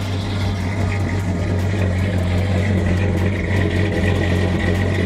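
A modified truck engine with an upgraded cam and exhaust runs at a steady, deep, loud idle, a continuous low rumble heard up close with no revving.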